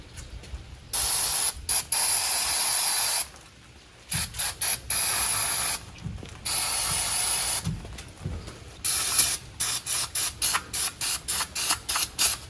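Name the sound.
spraying lubricant on brake cable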